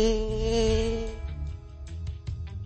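A bee buzzes in the PAW Patrol Mission PAW video game jungle rescue level, a steady droning hum that is loud at first and then breaks into shorter, quieter pulses.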